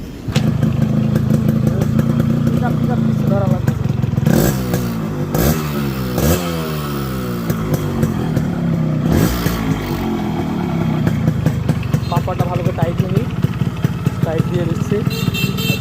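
A Yamaha RX 100 motorcycle kick-starts and runs, its two-stroke engine idling loudly and close with a few revs and thumps, while someone talks over it throughout.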